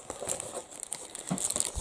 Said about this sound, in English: So this must be the foil.